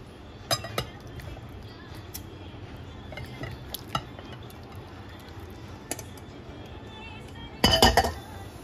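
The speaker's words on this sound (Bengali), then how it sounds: "এবার আমি এটাকে একটা বোলে ঢেলে নেব।" Fish egg fritter curry is poured from a pot into a bowl, sparse clinks and taps of utensils and dishware, with a louder clatter near the end, close and quiet, no voices.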